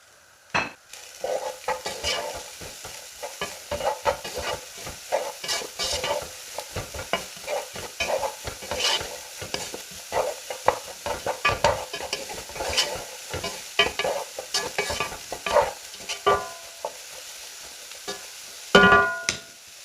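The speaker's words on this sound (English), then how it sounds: "After 2 minutes, add in the onions and mix well." Chopped onions frying in a pan for chicken samosa filling, a steady sizzle broken by frequent scraping stirs and clinks of a utensil against the pan, close and continuous, with a louder clatter near the end.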